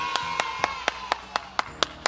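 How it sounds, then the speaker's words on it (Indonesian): Evenly spaced single claps, about nine in two seconds, ring out at a steady rhythm over a faint sustained tone, as children clap in an online Sunday school session. "Tepuk tangan dulu buat Tuhan kita."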